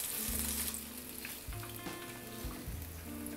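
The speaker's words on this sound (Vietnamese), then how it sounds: "Các bạn chiên khoảng 1 phút thôi nha" Taiwanese-style chicken pieces deep-fry in hot oil with a dense, crackling sizzle and scattered pops, steady and close.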